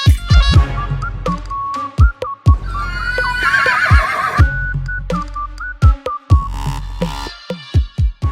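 A young horse, about 16 to 17 months old, neighs loudly and close by in a long, wavering whinny, with sharp knocks and clatters around it.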